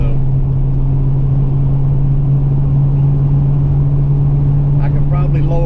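A Ford Mustang Foxbody running on nitrous gives a loud, steady droning engine rumble with a strong low hum, close and continuous, with brief voice-like bursts near the end.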